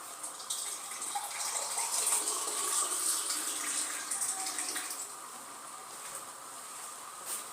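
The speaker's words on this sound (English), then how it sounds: "This is the point where I can add some more water," Water streams steadily into a cooking pot of beef for Kenyan ugali and beef stew, a close, soft gushing pour that lasts several seconds.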